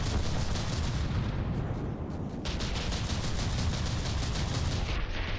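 Continuous heavy gunfire and artillery rumble from mortar volleys in the video game From the Depths during a battleship battle, a dense, loud barrage of booms and crackling impacts with no pauses, briefly thinning in the high end midway.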